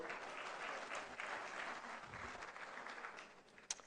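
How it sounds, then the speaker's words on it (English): Conference audience in Banjul, The Gambia, applauding a senator as she leaves the stage; steady dense clapping of a large crowd throughout, with one sharper clap near the end. "Another round of applause."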